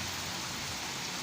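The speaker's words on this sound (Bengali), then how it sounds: "বৃষ্টি হচ্ছে তো মুষলধারে" Heavy monsoon rain pouring down outdoors, a brief steady broadband hiss of dense rainfall with no breaks or voices.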